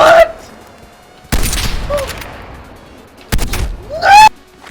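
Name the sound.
sniper rifle gunfire in video game Call of Duty: Cold War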